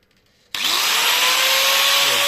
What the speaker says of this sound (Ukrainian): Від сіті повинно воно запустити болгарку.